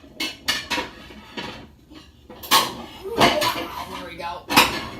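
Dishes and cutlery clattering while kitchen cabinets are rearranged, repeated sharp clinks and bangs in irregular bursts close by, with brief talk in between.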